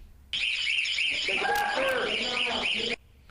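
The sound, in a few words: alarm going off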